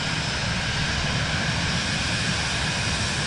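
An aircraft flies in Microsoft Flight Simulator 2024, producing a loud, continuous engine roar that holds steady without breaks.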